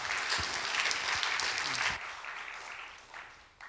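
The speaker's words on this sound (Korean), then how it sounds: "우리 목사님 큰 박수로 환영해 주시기 바랍니다." A church congregation at a Friday evening service gives loud applause to welcome the senior pastor. The dense clapping is steady at first, then thins and fades toward the end.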